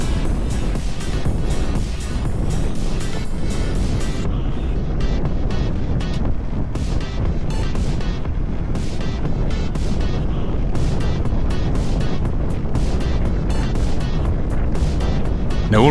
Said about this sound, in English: Now the wind up here was quite severe